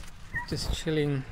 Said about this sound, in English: if you can hear in the background there the barking